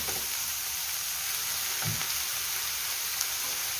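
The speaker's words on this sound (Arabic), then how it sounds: "دابا غادي نضيف الكفته وغادي نضيف حتى العطريه" Minced kefta and herbs go into a pan of browned onions and red peppers, giving a steady, close sizzle and fry with a brief soft stir partway through.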